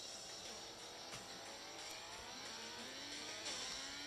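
A video game simulator car accelerates through its five-speed gearbox, engine pitch climbing steadily then dropping at each upshift, a continuous loud whine with rising harmonic sweeps.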